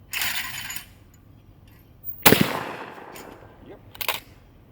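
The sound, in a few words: Winchester Model 1897 shotgun firing at clay target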